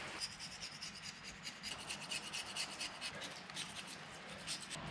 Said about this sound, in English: we're just going to scrape around the, all the little areas that uh, have missed to make sure we get all this gasket off